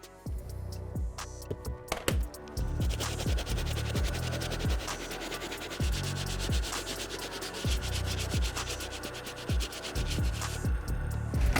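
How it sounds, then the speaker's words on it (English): A medium bristle brush scrubs the white leather of a restored 1985 Air Jordan 1 Chicago sneaker, steady rhythmic back-and-forth rasping strokes, close and loud, continuing without pause and with no talking. "Next brush I'm gonna use is the medium bristle brush."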